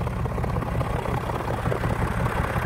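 A 1997 Lincoln Mark VIII LSC with Magnaflow mufflers, original tips, and resonator removed idles with a deep, close, steady exhaust rumble that pulses evenly throughout.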